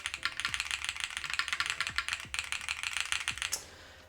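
Rapid typing on Hall effect keyboard switches with an open, plasticky clack, dense uneven keystrokes close up, a few deeper thumps from larger keys and a slightly harder final press.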